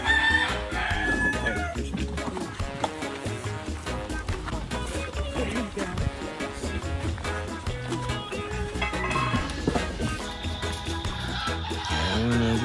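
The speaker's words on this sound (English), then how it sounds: "10 chickens in there." Chickens cluck and a rooster crows amid loud, busy background noise near a kitchen serving chicken, the calls recurring throughout over a dense, steady din.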